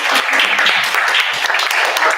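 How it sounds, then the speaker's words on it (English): Youth event audience applause closing a session, a loud, dense roar of many hands clapping continuously, close and full throughout. "I think we need a big round of applause."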